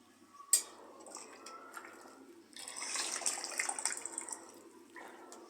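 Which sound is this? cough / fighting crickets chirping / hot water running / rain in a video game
hot water running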